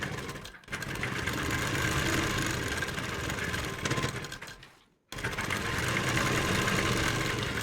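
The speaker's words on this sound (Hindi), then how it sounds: "तो हमने सबसे पहले मार्क पर सिलाई कर लेनी है।" A sewing machine runs along a marked line on suit fabric, a loud continuous whirring stitch that stops briefly twice, once near the start and once near the end, then resumes.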